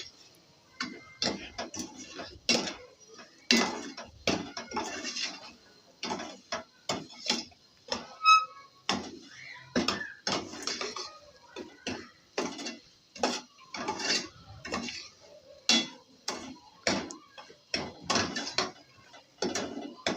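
A spoon stirs semolina halwa quickly in a pan, producing a steady run of quick, close scraping strokes in regular rhythm, each one distinct, with no talking over it.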